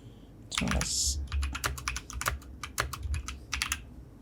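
Keys clatter on a computer keyboard in a quick, uneven run of close, crisp clicks, with no voices.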